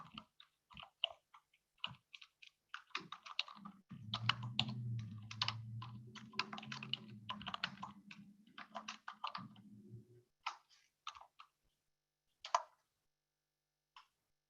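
Keys clatter in quick irregular bursts on a computer keyboard, close and fairly quiet, with a softer low rumble partway through and a few isolated taps at the end.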